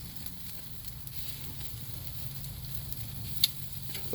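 Venison backstrap sears on a grill with a soft, continuous sizzle and faint crackle, fairly quiet and steady, with one sharp little tick near the end.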